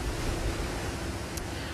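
The flooded Baraboo River rushes over a bridge as a dense, steady roar of flowing water, with wind buffeting the microphone and no voices.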